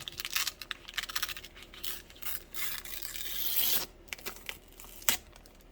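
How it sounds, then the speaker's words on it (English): Backdrop paper being torn off a sheet, with a run of rough ripping and rustling handling that swells and then cuts off, followed by a few sharp crinkles. "tear off another piece of my backdrop paper."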